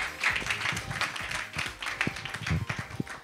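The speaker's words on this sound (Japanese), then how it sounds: "それでは皆様拍手をよろしくお願いいたします" Applause from an audience at a panel discussion event, a dense wash of many hands clapping steadily for a few seconds, moderately loud and close, with no talking over it.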